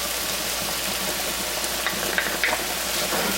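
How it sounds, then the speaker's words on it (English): Pork cooking in a skillet sizzles steadily while annatto powder is stirred in, with a few soft scraping stirs standing out near the end. "I'm going to mix this well."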